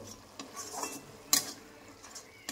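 Spice paste for a Bengali pomfret curry stirred in a pan with a spoon: soft scraping strokes close by, with one sharper clink of utensil against metal midway.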